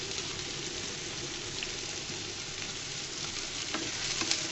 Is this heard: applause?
no